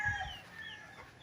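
Chickens at a gamefowl training farm in Pagsanjan, Laguna, giving a couple of brief low clucks near the start, then a faint steady background with no voices.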